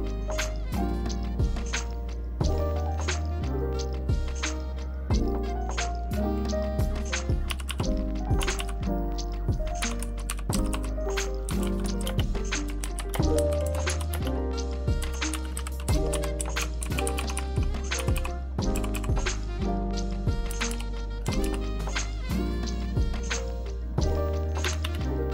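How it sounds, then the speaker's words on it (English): Roccat Vulcan 121 and Razer BlackWidow Elite mechanical keyboards are typed on continuously, giving close, rapid, uneven clacking keystrokes with occasional heavier thocks and no talking. "As you can tell, the Vulcan keys are quieter but still has that mechanical sound and feel."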